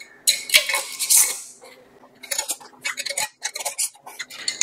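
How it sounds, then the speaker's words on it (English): Metal lids and screw rims go onto glass canning jars, bright clinks and clatters in bursts, a loud cluster early then a run of shorter taps and scrapes close by, no talk. "So now I'm just going to put a lid and a rim on each jar."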